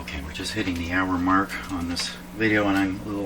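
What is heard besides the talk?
No distinct noise like a dog, phone or traffic.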